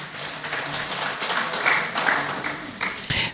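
Audience applause at a Kenyan environmental and public health officers summit, a steady crowd clapping that swells and fades over a few seconds, with occasional louder bursts near the end.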